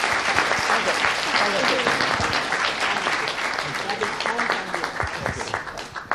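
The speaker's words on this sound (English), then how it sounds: "So let's give a big round of applause to Mrs." Sustained audience applause for Mrs. Lam at a career day event, dense clapping throughout with some scattered voices and cheers mixed in.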